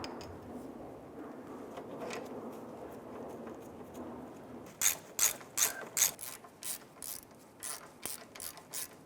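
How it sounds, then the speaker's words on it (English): A ratchet tightening the brake caliper slider pin bolts on a 2008-2013 Nissan Rogue rear brake: faint shuffling, then a close, rhythmic series of sharp clicking ratchet strokes that fade slightly toward the end. "torque down your caliper slider pin bolts to 32 foot-pounds"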